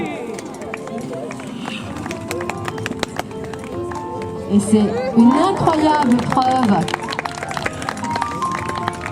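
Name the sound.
hooves of horses (Paint Horse, Haflinger)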